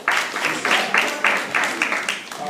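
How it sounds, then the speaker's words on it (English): Applause from a crowd, steady clapping in rolling waves that swell and fade several times, fairly close and loud, with no one speaking over it. "let's give her a round of applause for that"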